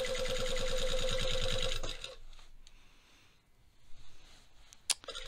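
A sewing machine stitches along a trouser seam, a loud steady rapid whir for about two seconds that then stops, followed by quieter handling noises and a brief click.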